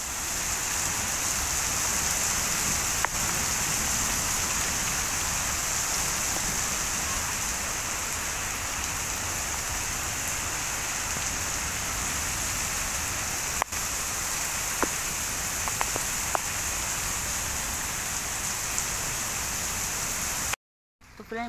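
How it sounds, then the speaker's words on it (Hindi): Heavy rain pours steadily over a custard apple and papaya orchard as a dense, continuous hiss, with a few faint clicks and drips standing out, no voices. "यहाँ पर बारिश स्टार्ट हो चुकी है"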